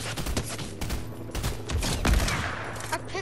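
Rapid bursts of automatic gunfire from the Fortnite video game, dense overlapping shots crackling loudly through the whole stretch with no talking.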